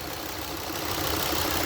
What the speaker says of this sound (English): And the engine is running